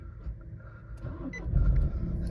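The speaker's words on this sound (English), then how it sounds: "Just start the car up." Nissan X-Trail 1.6 dCi diesel with 86,992 miles starting up: a low rumbling idle that grows louder and rougher as the engine catches, with a faint electronic beep near the start.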